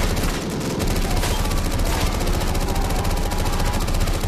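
Relentless rapid gunfire from an infinite-ammo weapon in modded Call of Duty Zombies, a dense loud stream of shots with no pauses, filling the whole stretch.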